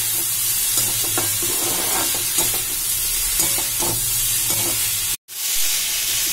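Chopped green chili sautés in a hot pan of oil for paneer bhurji, with a steady sizzle and repeated stirring scrapes, then a brief cut to silence near the end.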